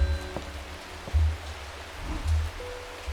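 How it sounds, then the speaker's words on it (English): Rain falls outside in the video game Strange Horticulture, a steady soft hiss with low rumbling swells and occasional faint tones, with no talking. "Bloody awful weather out there today. Yeah, it's raining."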